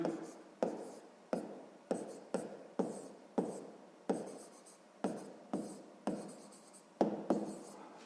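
Handwriting a math proportion for a sixth-grade exercise, a close series of about fifteen distinct pen or chalk strokes in an irregular rhythm, each a sharp scratch that trails off.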